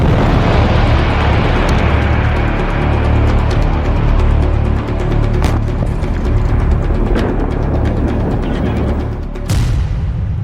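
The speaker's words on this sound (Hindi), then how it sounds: "रूस के हथियार गोदाम में बेहद शक्तिशाली धमाका हुआ।" A loud, sustained roaring blast with cracking bursts from an explosion at a Russian weapons depot rolls on continuously, with sharp pops near the middle and end; no voices.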